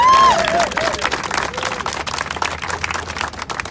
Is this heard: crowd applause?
yes